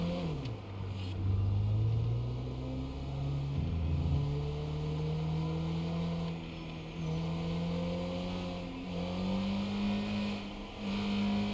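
A car engine hums and revs steadily in a driving video game, rising and falling in pitch as it accelerates and shifts, continuous and close with no talk over it.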